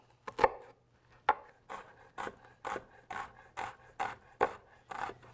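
A knife chopping onions on a board in a home kitchen, about ten crisp, evenly spaced strikes close up, with a faint steady hum underneath and no talking.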